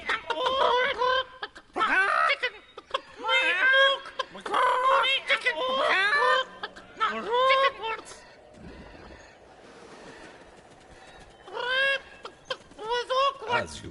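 Chickens cluck and squawk repeatedly in the video game Neverwinter, loud and close, in bursts of overlapping calls with a brief quieter gap in the middle.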